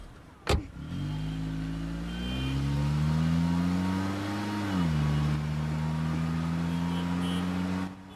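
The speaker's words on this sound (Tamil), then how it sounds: "டிரைவர் வண்டி எடுப்பா." A car starts up after a sharp thud and pulls away, its engine humming steadily and rising slightly in pitch as it accelerates, loud and close for several seconds before cutting off.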